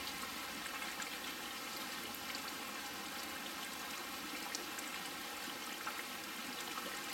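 Cold mountain spring water at Boardman Spring in Slate Canyon trickles steadily and softly nearby, a constant faint wash with no voices.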